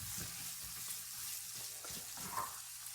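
Corned beef and diced onions fry in a pan for a healthier corned beef hash, giving a steady, quiet, continuous sizzle with faint stirring taps underneath.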